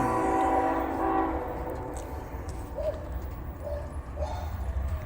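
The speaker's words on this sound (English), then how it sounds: "And here comes our train." A train approaching around Horseshoe Bend, a low rumbling roll that builds steadily without a horn, with brief faint voices nearby.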